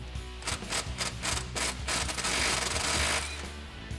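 An 18mm socket on a ratchet loosening the crank pulley of a 2005-2010 Mustang GT, a close run of quick, regular ratcheting clicks that blends into a steadier grinding rub.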